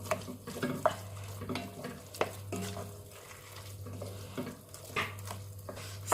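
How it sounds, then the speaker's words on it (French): A spoon stirs scrambled eggs into ratatouille in a pan, with a soft sizzle and scraping, clattering strokes, a steady low hum underneath, no voices. "on les ajoute à notre ratatouille. Hop. Et on remélange."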